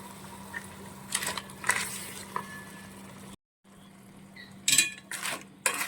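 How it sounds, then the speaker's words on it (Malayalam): Cooked crab goes into a pan for a crab curry with roasted coconut: a few clattering, scraping bursts of metal and shell, close by, broken by a brief silent gap, with no talking. "വേവിച്ച് വെച്ചിരിക്കുന്ന ഞണ്ട് ഇതിനോട്ടോട്ട് ചേർക്കുവാണ്"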